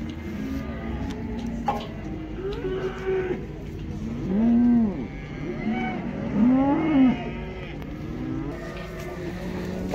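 Cattle at a livestock market in Taraz give two long, drawn-out moos a couple of seconds apart, loud and close, over a steady murmur of market background noise.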